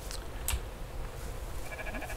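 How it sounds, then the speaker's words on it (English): Sheep bleating in the video game Rising World, a faint, distant bleat or two over steady ambient game noise. "I hear the sheep."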